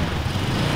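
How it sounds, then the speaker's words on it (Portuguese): A lawn mower engine drones steadily and loudly close by, a dense continuous mechanical roar with no pauses. "Hoje tem um cortador de grama aqui. Então não se liga no barulho não, tá um barulhão."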